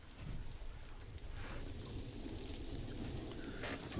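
Heavy rain pours down steadily in an outdoor setting at a zoo, a dense, continuous hiss and patter on surfaces throughout with no voices.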